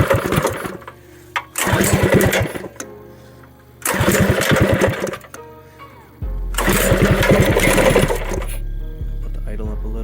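A Predator 212 small engine fitted with a 21mm PWK carburetor, swapped into a Monster Moto MM80 minibike, idles with short snappy throttle blips that rise and fall in bursts, with a steady low idle drone between them.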